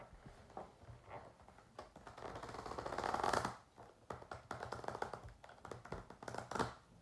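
Tarot cards are shuffled by hand, and they stick instead of sliding together. The shuffle makes a quiet, continuous papery rustle and riffle that swells to a brief louder burst midway, with soft taps around it.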